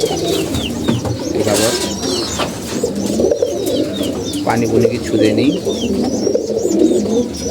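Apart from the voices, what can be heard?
pigeons cooing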